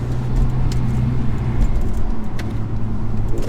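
A Mercedes CLA 45 AMG engine and exhaust accelerating hard, a loud, continuous growl and roar heard close up from inside the car, with no talking.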